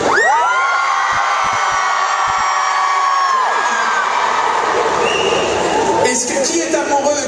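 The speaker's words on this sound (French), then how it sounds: "s'ils crient très très fort pour Clémence" A large crowd at a Harry Potter premiere at Bercy shouts and cheers loudly for Clémence Poésie, with high, sustained screams that fall and fade amid dense, noisy crowd roar.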